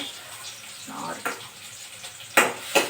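Pirandai (veldt grape) fries in plenty of oil until golden, giving a soft, steady sizzle with a few sharp clinks and scrapes of stirring toward the end.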